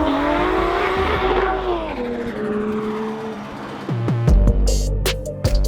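A Nissan 240SX S13 competition drift car drifts past with a loud engine howl that falls in pitch as it slides, then sharp tire squeals and bursts of screeching near the end, close and intense.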